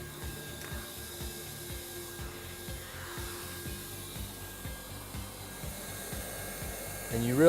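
A hot air welding gun blows a steady stream of hot air over a seam, giving a constant breathy hiss with a faint repeating tick underneath that swells louder at the very end; no one speaks.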